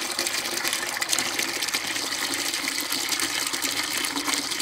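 About five gallons of water rush out through a bell siphon in a small aquaponic system, a steady, loud gushing and splashing flow that continues without pause.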